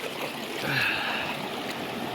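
A river in Nova Scotia flows steadily nearby, a broad, even rush of water with soft splashing texture and no voices over it.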